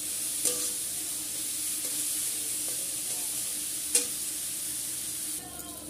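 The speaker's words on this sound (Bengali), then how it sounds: "এখন আমি উচ্ছেটাও ভেজে নেবো ভালো করে" Bitter gourd frying in oil in a pan, a steady close sizzle with occasional stirring clinks and scrapes, and no voices.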